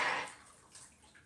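Water pours briefly into a Biocera filter jug, a short splashing gush that quickly fades into faint dripping and trickling.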